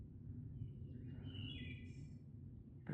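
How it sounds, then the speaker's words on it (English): Birds call at nightfall around a trail campsite in the woods, with a few thin chirps over a steady low outdoor rumble that swells into a louder burst right at the end. "Birds are letting me know it's nighttime."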